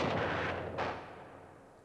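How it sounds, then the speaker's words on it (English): Gunfire in a Hollywood film version of the Iwo Jima battle: a couple of heavy, close booming shots in quick succession that fade into a decaying rumble, with no voices. "he had thousands of shots fired at him"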